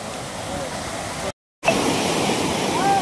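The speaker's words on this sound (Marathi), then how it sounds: "कसला पडतोय वरून धबा धबा धबा धबा, खतरनाक" Bhaje waterfall near Lonavala pours heavily in the monsoon, a loud, steady broadband roar of falling water that cuts out for a moment and then resumes.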